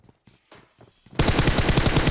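Gunfire in the mobile shooter BGMI: after about a second of quiet, low thumping and faint background sounds, a loud rapid burst of automatic fire rattles on to the end.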